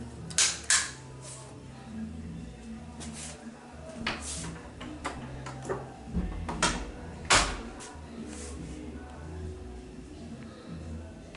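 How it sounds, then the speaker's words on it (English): A light switch is flipped off in an apartment in Tegucigalpa, Honduras, giving crisp, close clicks. Several sharp snaps are scattered over a quiet room background. "We're gonna cut off the light right here."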